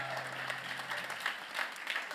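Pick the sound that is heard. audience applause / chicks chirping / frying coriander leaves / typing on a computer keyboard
audience applause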